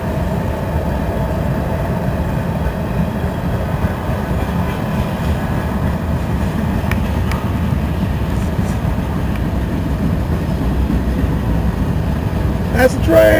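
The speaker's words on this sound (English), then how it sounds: "That's the train!" A train rumbles past nearby in a long, steady, loud roar with faint metallic squeaks and clanks scattered through, and muffled voices underneath.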